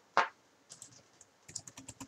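A few scattered keystrokes on a computer keyboard, opening with one sharper tap, then light clicks in a quick irregular cluster, close and quiet.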